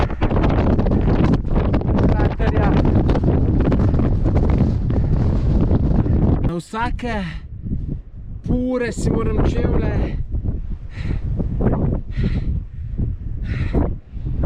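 Wind gusts across the fine dust and sand of the Pico Viejo volcano on Tenerife, buffeting the microphone in a loud, continuous roar, then someone talks while the wind keeps blowing.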